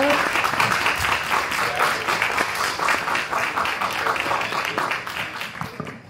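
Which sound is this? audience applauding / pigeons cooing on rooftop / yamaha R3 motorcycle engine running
audience applauding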